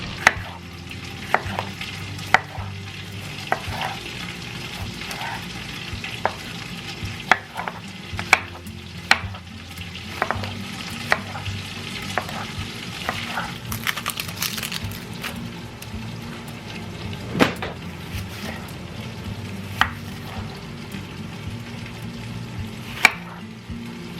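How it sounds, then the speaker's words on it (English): Potatoes seasoned with salt and pepper cook in a covered pan with a soft, steady sizzle, broken by scattered clinks and taps of utensils and the lid. "I'm gonna put a cover on this and let this cook just for a little bit"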